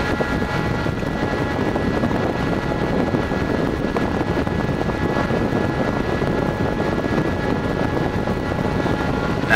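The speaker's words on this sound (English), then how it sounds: "Now with the exhaust fan pointed towards you." Steady, loud airy rush from the exhaust fan of a Butterfly Labs 50Gh/s ASIC mining unit blowing toward the listener, a constant roar with a faint whine and slight fluttering, with no voices.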